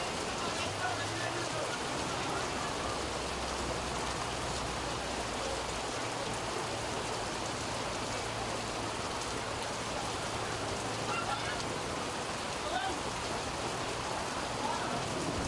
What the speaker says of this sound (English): In this rain.